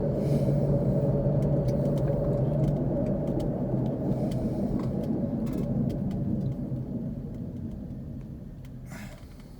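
Car driving through the University of Tennessee at Chattanooga campus, a steady low road rumble and engine hum from inside the cabin that continues throughout and eases slightly toward the end, with no talking.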